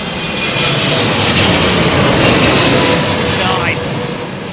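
An Air India Boeing 777 lands at Heathrow in high winds, a loud, close, sustained engine roar swelling and holding through the landing, with a brief higher whine near the end.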